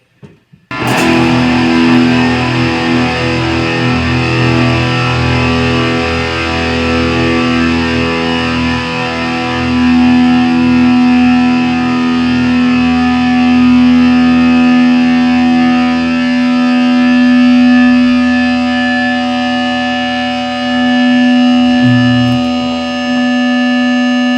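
Electric guitar driven through stacked EMG, Seymour Duncan and DIY boost pedals, one loud, heavily distorted chord ringing and sustaining with a dense buzzing edge and audible hiss, slowly decaying.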